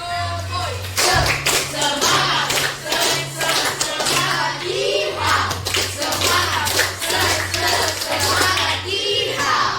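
Children in a classroom clap a rhythmic Tepuk Semangat chant with hand motions, bursts of claps in steady patterns under loud group voices chanting throughout, with a low hum underneath.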